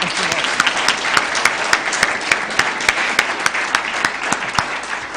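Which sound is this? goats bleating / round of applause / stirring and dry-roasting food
round of applause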